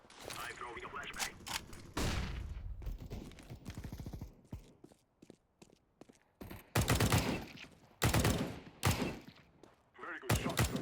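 Gunfire in the video game CS:GO comes in sharp, loud bursts and single shots, mixed with in-game voice callouts and clatter, with a player talking over parts of it.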